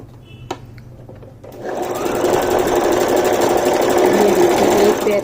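A sewing machine stitches a seam on a pair of pant-cut palazzo trousers, starting after a brief quiet moment and then running steadily and loudly in a close, continuous mechanical whir until the end.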